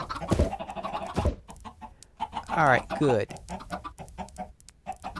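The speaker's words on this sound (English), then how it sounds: "Okay, plenty of chickens around here." Minecraft chickens cluck in short repeated bursts, close by, with a longer warbling squawk in the middle while someone speaks briefly over them.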